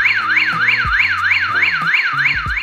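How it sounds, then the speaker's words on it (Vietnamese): A Pingron PR-P03 infrared visitor chime sounds its alarm mode: a loud, close electronic siren wailing up and down in rapid regular sweeps, with lower stepped tones pulsing beneath throughout. "Còn âm thanh báo động là âm thanh báo động là khi đi nghe nó hú theo kiểu tiếng báo động"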